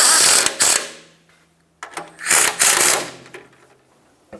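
Ratchet tightening a front lower control arm bolt on a 1996-2002 Toyota 4Runner, giving close mechanical clicking in two short bursts separated by a quiet pause.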